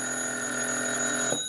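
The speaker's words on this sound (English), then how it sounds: "Then the phone rang" A telephone rings in an old-time radio drama episode of Yours Truly Johnny Dollar, one steady continuous bell tone held loud and close for a moment before cutting off.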